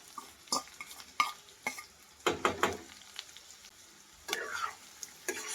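Finely chopped capsicum being stirred in a frying pan, with irregular scraping strokes and clinks of the spatula over a soft background sizzle, close and fairly quiet.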